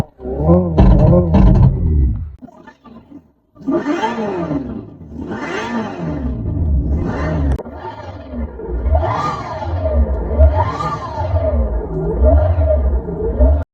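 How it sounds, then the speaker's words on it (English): A 2025 Hyundai Ioniq 5 N electric car plays a loud, growling simulated engine roar that rises and falls in repeated revving swells, a synthetic exhaust tone rumbling steadily with brief pauses between bursts. "You have 3 different exhaust settings."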